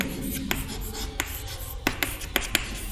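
Chalk or pen scratching out a math summation on a board during a real analysis lecture, a series of short taps and strokes in an irregular rhythm, close and moderately loud.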